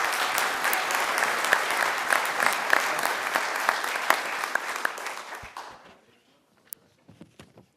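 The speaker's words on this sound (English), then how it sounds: "Let's have a round of applause for Carlos" An audience claps in a steady, moderately loud round of applause that fades out around six seconds, followed by a few scattered claps and small taps in the quiet room.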